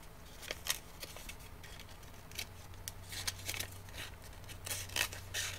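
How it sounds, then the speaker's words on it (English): Scissors snip through a strip of paper in short, irregular cuts, a series of light crisp clicks and rasps up close, with a low steady hum underneath. "we're going to take our scissors and cut down that center line that you drew"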